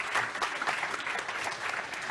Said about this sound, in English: A big applause to all of them.